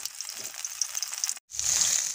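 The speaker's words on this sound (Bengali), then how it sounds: "তারপর ভালোভাবে ভেজে নেব।" Shrimp fritters (chingri macher bora) frying in oil over a medium-low flame, giving a steady close sizzle that breaks off for a moment, then returns louder and fuller.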